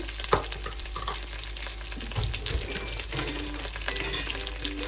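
Ingredients for a fried-peas biryani frying in a pan with oil, a steady close sizzle, plus a few clanks and scrapes of stirring and no speech.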